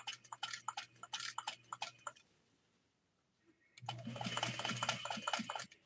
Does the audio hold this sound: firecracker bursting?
no